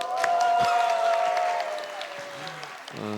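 A church congregation claps during a Sunday daytime worship service, the applause strong at first and easing off, with a sustained held tone and some voices beneath it.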